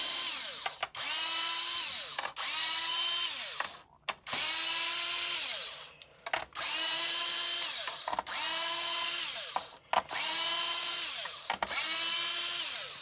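A power driver spins screws out of a 1984–1989 C4 Corvette instrument cluster in about seven separate bursts, each a rising then steady whine followed by a short gap, close and loud, with no voices.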